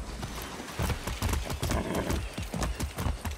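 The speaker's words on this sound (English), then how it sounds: "I haven't ridden a horse since basic training." Horse hooves clip-clop in a steady, quick rhythm across a ridden mount's gait in the Far Cry 6 game world, close and prominent, with a brief whinny mixed in.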